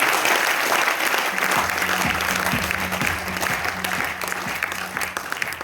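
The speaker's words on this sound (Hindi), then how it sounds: "एक बार जोरदार तालियां बजा देंगे आपके लिए।" An audience at a business seminar in Varanasi gives loud, sustained applause, dense continuous clapping throughout with a faint music beat underneath.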